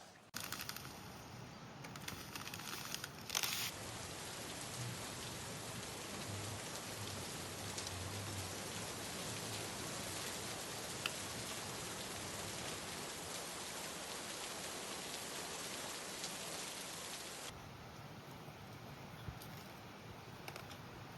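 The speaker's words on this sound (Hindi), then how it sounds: "बाकी यार रेनफॉल अभी भी काफ़ी हैवी हो रहा है, रेनफॉल रुकने का नाम नहीं ले रहा यार।" Heavy rain pours down at a riverside campsite by the Ramganga River in Thal, Pithoragarh: a dense, steady hiss of downpour close by, with no one talking.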